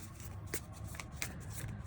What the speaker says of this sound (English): These ones at least are a little bit easier to handle and shuffle.